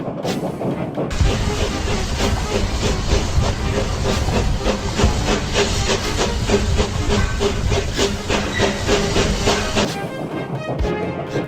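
Steam train moving, a loud continuous hiss of escaping steam with rhythmic chuffing pulses layered over a rumble, close and steady, ending with a brief drop near the end.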